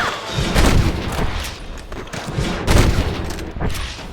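Gunfire in Red Dead Redemption, a few heavy booming shots spread over a few seconds, loud and close with echoing tails.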